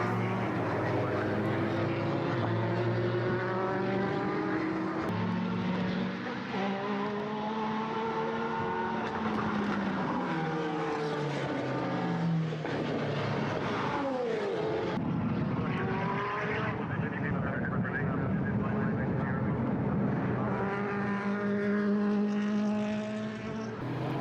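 Several Formula BOSS race cars drone past at a steady, moderate pace behind a safety car, engines rising and falling in pitch as they pass, continuous and fairly loud.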